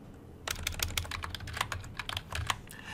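Rapid keystrokes on a computer keyboard while a password is typed, a close, steady run of light clicks and taps lasting a couple of seconds with no talking.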